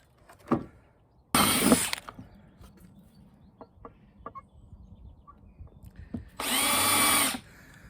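A small pilot drill bores a hole in electrical work on a widebeam narrowboat lithium installation, giving two loud, dense bursts of about half a second and one second, separated by quieter tapping and clatter.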